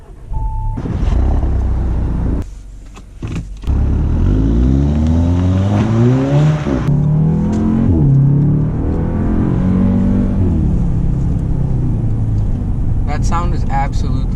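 Four-cylinder engine of an Audi TTS sports car revs up through the gears, rising and falling in repeated climbs, loud and close from inside the car.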